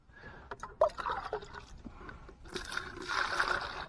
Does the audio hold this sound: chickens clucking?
no